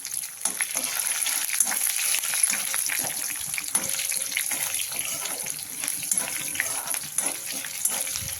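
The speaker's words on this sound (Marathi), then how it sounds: "मिरची छान याच्यातच परतून घ्यायची आपल्याला" Green chillies sautéing in a pan for curd rice, a continuous close sizzle of hot oil with light stirring scrapes, steady and moderately loud with no talking.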